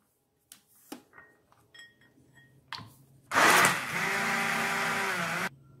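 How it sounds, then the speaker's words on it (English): A few clicks and clatters, then a handheld blender whirs loudly and steadily through curd for about two seconds before cutting off abruptly. "Blend the curd well with a hand blender until it is smooth."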